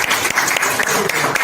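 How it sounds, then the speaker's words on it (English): Applause breaks out for Cool Earl at an aerosol arts conference: a dense, crowded burst of clapping from a live audience that fills the whole short moment. "I now want to have a big round of applause given to Cool Earl"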